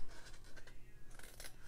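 Scissors snip through paper while squares are cut out, a few soft, close crisp cuts in quick succession at low volume, with no voices.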